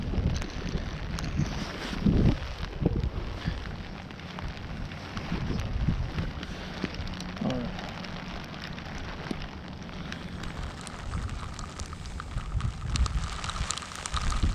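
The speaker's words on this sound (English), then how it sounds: "Getting hit with the rain." Rain patters steadily amid gusty wind buffeting the microphone, with scattered louder thumps of drops hitting a nearby surface.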